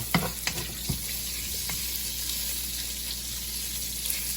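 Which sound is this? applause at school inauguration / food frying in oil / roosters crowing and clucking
food frying in oil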